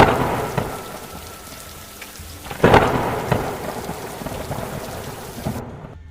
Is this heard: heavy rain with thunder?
yes